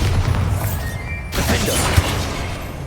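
Bombarda blasting spell exploding in Hogwarts Legacy, a dense roaring burst with a sharp crack partway through, loud and close over constant game noise.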